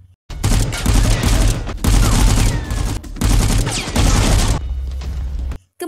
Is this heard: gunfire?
yes